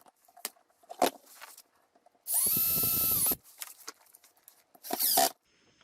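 A power drill whirs, driving a screw into wood while assembling a wine press, in one sustained burst and then a second shorter one, with small knocks and handling sounds in between.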